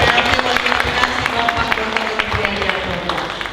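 A ceremony audience applauds the acting mayor of Bekasi at an IPHI inauguration event: steady, dense clapping from a crowd that holds at an even level throughout.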